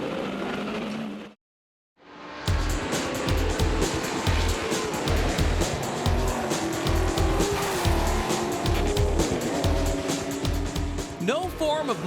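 A race car spins out on track, with loud engine roar and squealing tires filling the clip after a brief gap of silence near the start, and voices talking over it.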